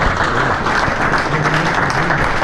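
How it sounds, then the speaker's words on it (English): A crowd at a Brisbane presentation of the Yamaha Tenere 700 motorcycle breaks into loud, dense applause that holds evenly throughout. "Tenere 700, I think that deserves a round of applause."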